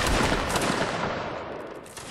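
A massed musket volley in a Mount and Blade Napoleonic battle, a loud dense crackle of many shots fired together that rolls on and slowly fades over about two seconds, with no talk.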